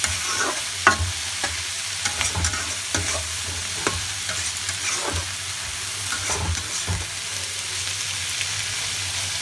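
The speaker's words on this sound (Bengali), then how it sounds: "এভাবে আলতো আলতো করে নাড়তে নাড়তে শাকে জল লাগবে না শাকের থেকেই জল বেরিয়ে আসবে" Bathua greens sizzle steadily in an uncovered pan with spices and no added water, while a utensil stirs and scrapes in soft, repeated strokes close by.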